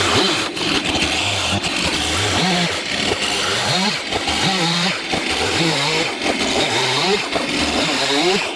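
Gas-powered chainsaw mill saw running continuously and loud, its engine note rising and falling in repeated revving cycles with no pauses.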